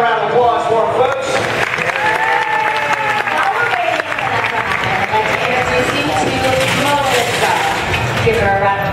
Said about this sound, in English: Make another round of applause for him, folks.